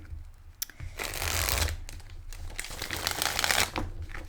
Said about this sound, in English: Got to quickly shuffle this one.